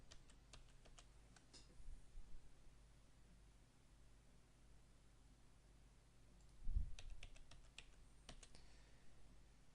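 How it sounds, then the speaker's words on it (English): Quiet computer keyboard typing with light clicking keystrokes while entering a database name and password, bursts of rapid taps around the start and again near the end, soft and close with no talking. "just type in your base name, for example base 25, and you type in your password"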